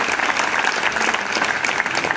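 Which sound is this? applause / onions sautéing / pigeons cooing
applause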